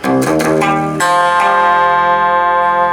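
A distorted electric guitar plays a quick run of picked notes from a song, then lets a final chord ring out loud and sustained.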